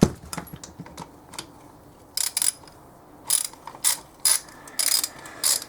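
A ratchet tightens the cylinder head nuts on a pit bike during a piston change, its close, sharp clicking bursts starting faintly and then coming in loud repeated runs with short pauses between, with no voices.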